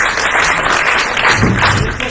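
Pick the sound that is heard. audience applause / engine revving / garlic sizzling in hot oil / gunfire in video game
audience applause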